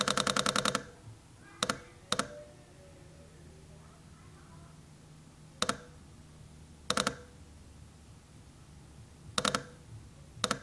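Leica Q camera shutter firing in burst mode until its buffer fills: a rapid string of sharp clicks, then isolated pairs and single clicks spaced seconds apart as it slows.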